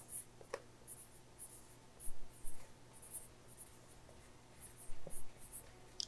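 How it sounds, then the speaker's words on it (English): A marker scratches out a month and year on a plastic zip-top freezer bag of homemade apple crisp, short squeaky strokes coming in bursts, close and quiet with no talking. "And I just write the month and the year."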